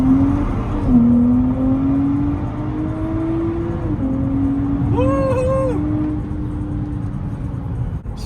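A 2023 Nissan Z in sport mode accelerates hard on a street, its engine note climbing steadily through the gears with a brief shift dip, loud and close throughout, with another vehicle whirring past midway.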